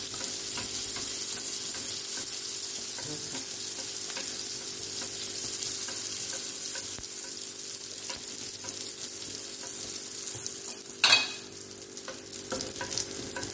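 Kabyle beignets (sfenj) frying in hot oil give a steady close hiss and sizzle throughout, with a short louder crackle and splash as dough drops in near the end.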